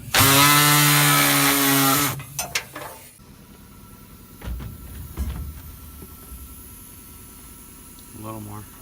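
A power tool cuts into a 2015 Dodge Challenger SRT dash for a gauge cluster install, a loud harmonic whine for about two seconds before stopping, followed by brief clatter and people talking.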